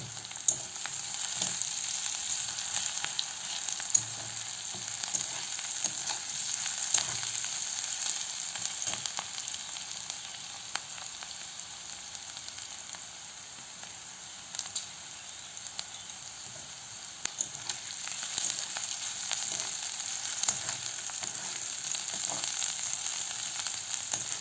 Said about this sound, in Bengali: আমরা পেঁয়াজটাকে ভালো করে ভেজে নিচ্ছি।